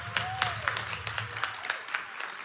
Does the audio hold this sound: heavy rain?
no